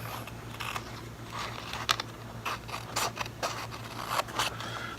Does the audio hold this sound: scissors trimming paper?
yes